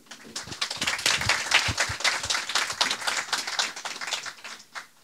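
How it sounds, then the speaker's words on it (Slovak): Audience applauding at a public discussion event in Prešov, a dense steady wash of many hands clapping for about five seconds, fairly close and even, tapering off at the end. "Myslím, že si zaslúžite vôbec potlesk, že ste prišli."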